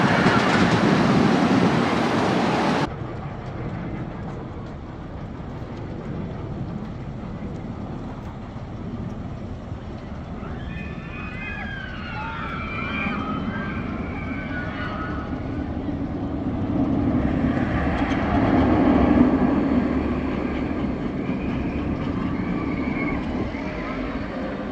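Goliath Giovanola hypercoaster at Six Flags Magic Mountain, a steady rumbling rattle of the train on its track with squealing wheel tones and rising wind roar, following a brief loud burst at the start.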